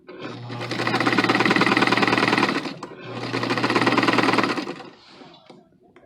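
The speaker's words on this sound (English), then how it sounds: "my sewing machine is not happy with me right now" A sewing machine stitching thick interfaced fabric runs in two long, loud bursts of rapid stitching, straining with a heavy rattling hum, separated by a brief pause.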